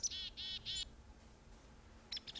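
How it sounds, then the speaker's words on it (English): Birds in a Minecraft Technic modpack game chirp in three quick, bright bursts close together, then fall quiet before a fainter flurry of short chirps near the end, with no talk. "Like I could turn them off and I'd still hear these birds."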